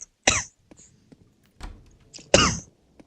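Three harsh, explosive coughs, close and loud, spaced unevenly with short quiet gaps and small breaths between them.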